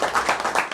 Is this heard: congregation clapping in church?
yes